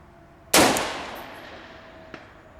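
A single sharp gunshot from a gas-operated rifle fitted with a muzzle brake cracks loudly nearby, followed by a faint metallic ping as the round strikes a steel plate downrange.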